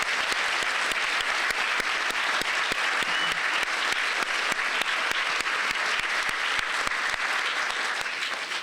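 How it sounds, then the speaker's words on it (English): A room of attendees at a police department honor awards ceremony claps steadily for award recipients, dense sustained applause at full volume that fades slightly at the end, with no speech over it. "Let's give all the recipients of the awards a round of applause."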